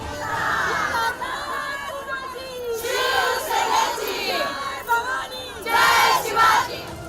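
Crowd of female Shiv Sena workers gathered at a Durga Maha Aarti, shouting and cheering together in loud, surging bursts of massed voices that swell and fall throughout.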